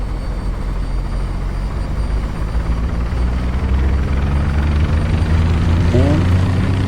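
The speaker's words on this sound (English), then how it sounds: "let's increase the throttle so the governor can take it to 100" A helicopter engine in Microsoft Flight Simulator 2024 spools up with a loud, steady turbine whine over a deep rotor drone, the pitch climbing slowly toward the end.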